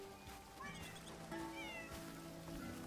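Cats meowing in a town in the video game Crimson Desert, several short meows rising out of a steady ambient game background with a faint trickle of water, fairly quiet overall.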